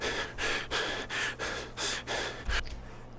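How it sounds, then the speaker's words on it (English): A man breathes heavily and rhythmically, with about eight loud, raspy inhale-exhale gasps in quick succession, close up and alone. "It's a sound of a man heavy breathing."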